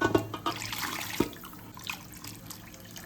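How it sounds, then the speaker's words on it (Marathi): Hot water poured into a pot of spicy mutton gravy, a close splashing gush with a few clinks, gradually settling into a softer trickle. "आता याच्यामध्ये आपल्याला हवं तेवढं गरम पाणीच टाकायचं आहे, थंड पाणी नाही घालायचं."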